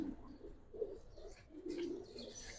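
Soft, low cooing from pigeons repeats in several gentle phrases, faint and close, with a few light rustles behind.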